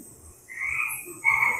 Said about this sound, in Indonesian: Ada kodok.